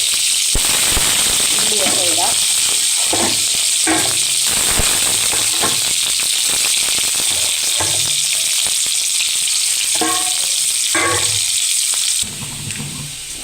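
Mustard seeds and chillies spluttering in hot oil for a pumpkin curry tempering, a loud constant sizzle peppered with sharp popping crackles throughout, with a person speaking over it.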